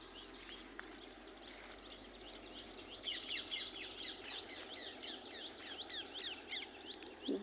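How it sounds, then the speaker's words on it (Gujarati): Parrots call from village mango trees in a faint, distant chorus of rapid chirps and squawks that thickens midway, set against a soft outdoor background. "પોપટ કેટલા સરસ ગાંગરે છે."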